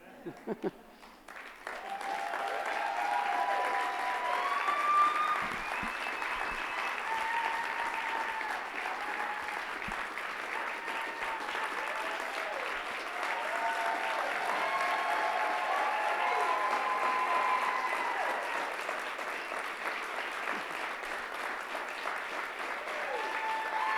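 Sustained applause from a university talks audience as speakers return to the stage, a broad steady clapping swell that builds after a quiet start and holds for over twenty seconds.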